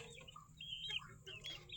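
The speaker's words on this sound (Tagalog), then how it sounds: "Ito pala guys yung alaga kong mga manok guys ito." Pet fighting roosters and hens cluck and call close by in a farmyard, short bright clucks and a drawn-out squawk rising over a low steady background hum.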